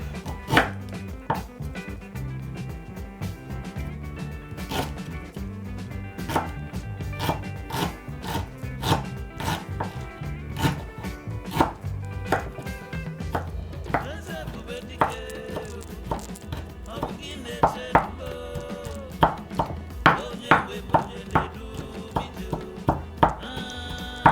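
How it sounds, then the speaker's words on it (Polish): A kitchen knife chops garlic and ginger on a cutting board, a long run of quick, regular, sharp strikes up close over steady background music. "czosnek. Krojony. I teraz imbir."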